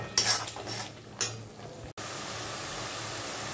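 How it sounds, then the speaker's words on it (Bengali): Spice masala stir-fried in a pan for capsicum chicken: a couple of spoon scrapes and clanks against the pan, then a steady, even sizzle. "এরপর আমরা ভালো করে মশলাটাকে কষতে থাকব।"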